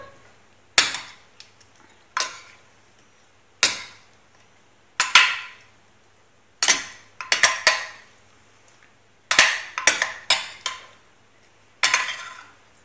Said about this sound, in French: Je mélange sans écraser les légumes.